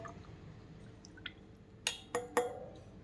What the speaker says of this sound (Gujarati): હવે આને આપણે ગળાની મદદથી એક ગ્લાસમાં ગાળી લેશું